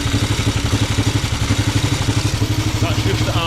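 A Norton Model 50 motorcycle engine ticks over at idle, close by, with a steady, quick thumping pulse and some mechanical clatter throughout. No one speaks.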